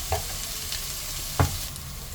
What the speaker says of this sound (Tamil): நம்ம போட்ட வெங்காயம் நல்லா வதங்கிடுச்சு